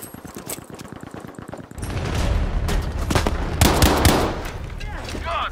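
Rapid automatic gunfire from a Battlefield 5 military-sim skirmish on the Lofoten islands: a fast stuttering burst opens the scene, then heavier, dense volleys and sharp cracks crowd close and loud, with a voice briefly under the shooting.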